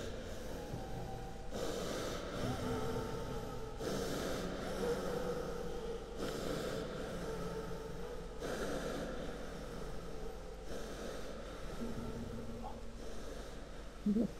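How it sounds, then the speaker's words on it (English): Someone breathing in a creepy basement in the horror game Astray: slow, heavy, rasping breaths recur in long rhythmic bursts, close and prominent over a steady low ambient drone, with no talking. "And this is where someone's breathing"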